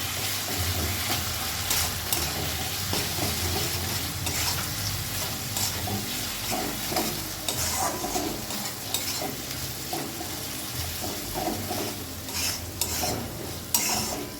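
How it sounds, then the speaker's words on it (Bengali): Pointed gourd frying in a pan with ground shrimp paste, a steady close sizzle with frequent scraping stirs and clinks of the spatula throughout. "সেই চিংড়ি মাছ বাটা আর একটু কষিয়ে নেব"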